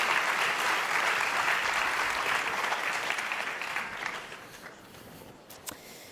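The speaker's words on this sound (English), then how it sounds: "everyone, round of applause for Michele." Audience applause at a tech summit, a dense, steady clapping from a seated crowd that holds for several seconds and then gradually thins and fades out.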